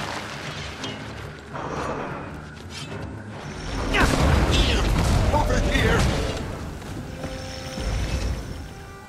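Bomb explosions in the video game Guild Wars 2 rumble as a loud, prolonged blast with whooshing debris that peaks midway and tails off, under and between speech, with lighter mechanical clatter before it.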